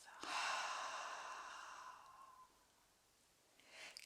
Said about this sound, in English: and now release through the mouth